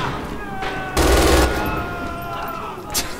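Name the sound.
MG 42 machine gun gunfire in Red Orchestra 2 video game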